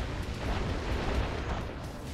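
Continuous rumbling explosion in the underwater adventure game Dave the Diver, a dense, heavy roar sustained loudly throughout with no pause or talk.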